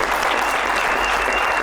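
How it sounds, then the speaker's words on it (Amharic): An audience at a comedy show claps together in a loud, dense burst that holds steady throughout, with faint crowd noise underneath. "አጨብጭቡ።"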